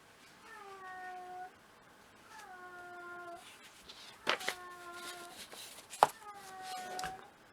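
A cat stuck behind a couch meows again and again, giving four drawn-out, faint plaintive cries indoors with a few sharp knocks and rustles between them.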